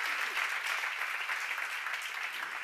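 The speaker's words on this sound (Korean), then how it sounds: "빨리 박수요." A church congregation at a seminar breaks into dense, continuous applause, many hands clapping together in an even, unbroken wash at moderate distance, with no speech over it.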